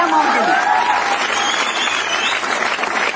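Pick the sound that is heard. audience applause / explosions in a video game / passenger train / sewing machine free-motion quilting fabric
audience applause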